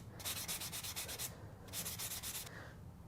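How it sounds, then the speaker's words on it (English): A painted wooden apple decoration gets light sanding, with two bursts of quick, soft back-and-forth strokes and a short pause between them, close and quiet. "I'm just using a very light pressure as I sand, so I can get back to some of this white paint color without going all the way through to the red"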